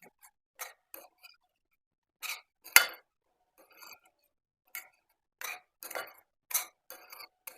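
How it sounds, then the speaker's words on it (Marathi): Onion sautéing with basic spices in a pan for stuffed capsicum, a spatula scraping and clinking against the metal in a dozen sparse, separate strokes, fairly quiet with no sizzle standing out. "आता याच्यामध्ये मी हे बेसिक मसाले जे घेतलेले ते सगळे घालून घेणार आहे छान परतून घेणार"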